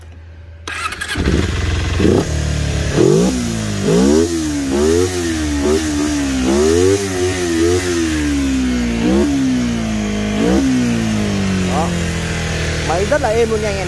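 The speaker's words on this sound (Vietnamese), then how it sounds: "Bây giờ mình test máy cho anh em mình nghe nhé anh em nhé." A 1994 Kawasaki 250cc motorcycle engine revs hard and close, its pitch rising and falling in a series of repeated throttle blips over a steady loud idle.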